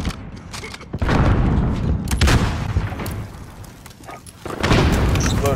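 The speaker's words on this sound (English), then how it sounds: "Cluster strike is go for launch." Cluster strike explosions in Modern Warfare, loud booming blasts that rumble and roll in several waves, close and heavy, with gunfire mixed in.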